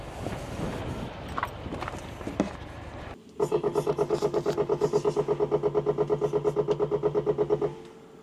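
Wind and rustling give way to a large diesel truck engine cranking and catching, then a steady rhythmic pulsing idle that cuts off near the end.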